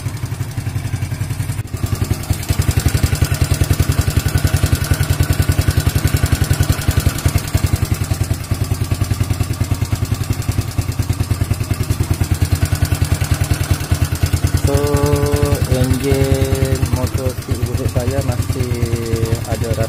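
Evo Z motorcycle engine idles steadily while warming up, a continuous close, loud, even chugging that runs through the whole stretch, with a few brief tonal sounds near the end.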